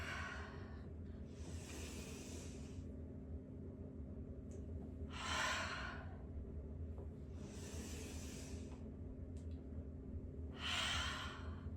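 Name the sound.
exhaling out of the mouth during yoga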